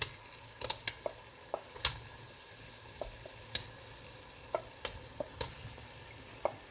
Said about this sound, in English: So now I'm going to add my tomato.